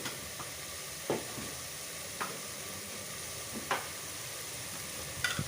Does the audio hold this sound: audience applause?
no